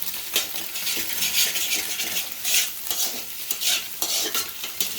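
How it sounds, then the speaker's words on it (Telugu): A utensil stirs boiled chicken into chicken fried rice frying over high flame, giving steady scraping and clinking against the pan over a constant sizzle. "చికెన్ బాయిల్డ్ చికెన్ వేసి బాగా కలుపుకోవాలి"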